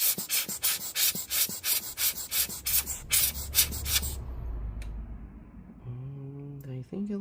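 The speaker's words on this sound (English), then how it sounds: "We're gonna use the air blower to dry it up." An air blower dries parts from a 2019 Apple iMac A2115 27-inch 5K with a rapid series of sharp, close puffs, then falls quiet before a brief voice near the end.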